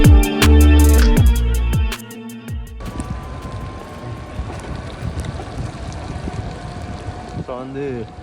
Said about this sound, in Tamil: ஆனால் காற்றடிக்க தொடங்கிடுது